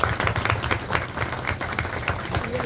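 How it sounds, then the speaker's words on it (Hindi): Dense crowd applause at a village post office branch opening ceremony in India, a thick, continuous roar of many hands clapping over a noisy, reverberant background. "तालियों की गड़गड़ाहट से उनका स्वागत किया जाए।"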